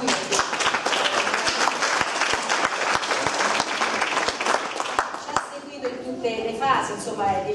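School audience in Rome applauds, a dense, steady burst of clapping from a crowd that fades slightly toward the end, with some voices mixed in.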